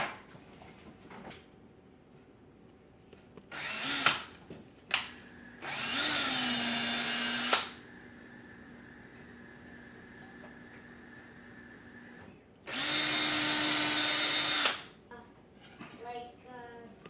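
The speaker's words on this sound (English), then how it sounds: "now we will drill some pilot holes" A power drill boring pilot holes into a wooden soap loaf mold base, in two sustained whirring bursts separated by short clicks and a pause, close and loud with no talking.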